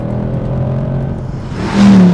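A Mercedes C63 AMG Black Series V8 engine idles with a deep rumble, then revs up sharply to a loud, rising roar near the end.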